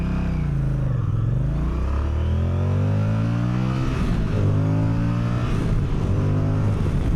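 A 2027 Moto Guzzi Stelvio middleweight motorcycle engine pulls hard under acceleration, its loud, close exhaust note climbing in pitch through repeated rising surges with gear changes, with no voices.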